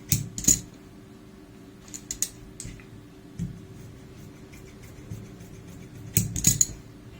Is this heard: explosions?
no